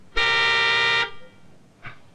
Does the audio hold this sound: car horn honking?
yes